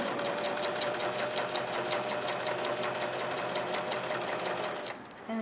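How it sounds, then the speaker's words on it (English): A sewing machine runs at a steady, rapid stitching rhythm, close and continuous, slowing and stopping right at the end. "if you've never used the sewing machine before, you can just try and go slow as possible"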